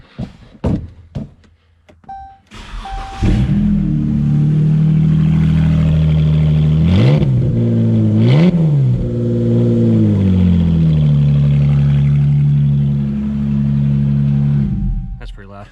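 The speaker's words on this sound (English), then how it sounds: "I think I'll give it a start with no exhaust on it." A Hellcat-engined Chrysler 300 cranks a few times, then roars to life very loudly with no exhaust fitted, idling with a couple of sharp revs before settling and cutting off.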